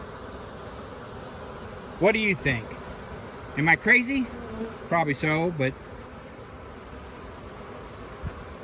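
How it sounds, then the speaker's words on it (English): Honey bees buzz and fan steadily at a hive, a continuous insect drone running under a voice as he talks in short bursts. "And we still got bees fanning."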